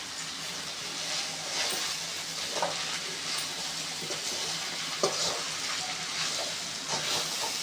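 Scrambled egg sizzles and fries in a hot pan for egg hakka noodles, with a steady hissing crackle throughout and intermittent scraping stirs from a spatula, close and fairly loud.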